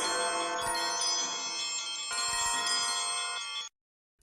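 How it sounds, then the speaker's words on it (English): Many bells ring together through a house as a radio drama effect, a dense, bright jangling chorus that sustains loudly for several seconds and then stops abruptly into silence. "The bells through the house, they are all ringing."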